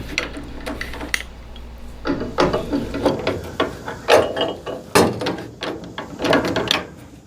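A breaker bar turning a fastener in a capture nut on a tubular A-arm gives repeated close ratcheting clicks and metallic creaks in uneven bursts, with no talking.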